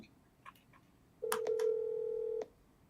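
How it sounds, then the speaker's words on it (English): An outgoing telephone call produces a single steady ringback tone lasting just over a second, clear and fairly loud against a quiet room with no talking. "I hear that ring."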